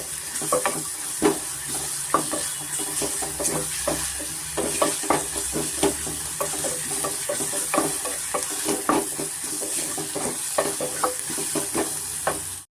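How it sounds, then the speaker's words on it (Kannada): Ginger garlic paste fries in hot oil for a tomato kurma, a loud, close, continuous sizzle broken by frequent scraping and clattering as it is stirred, with no talking. "ಇವಾಗ ಇದಕ್ಕೆ ನಾನು ಶುಂಠಿ ಬೆಳ್ಳುಳ್ಳಿ ಪೇಸ್ಟು ಸೇರಿಸ್ತಾ ಇದ್ದೀನಿ ಪ್ರತಿಯೊಂದು ನಾವು ಚೆನ್ನಾಗಿ ಎಣ್ಣೆಯಲ್ಲಿ ಬಾರಿಸ್ಕೊಬೇಕಾಗುತ್ತೆ"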